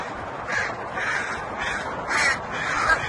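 Several crows caw in a steady series of harsh, evenly spaced calls at moderate distance, clear over a faint background hiss, with no voices.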